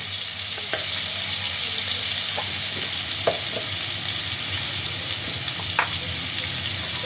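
Potatoes frying in oil with salt and turmeric, a loud, dense, unbroken sizzle close by, with a few faint utensil clicks and no talk.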